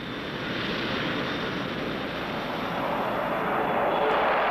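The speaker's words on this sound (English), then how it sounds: "the YB-52, Boeing's new big jet bomber," The Boeing YB-52 jet bomber flies, a loud, steady broadband jet roar that grows slightly stronger, heard through a dated, band-limited recording.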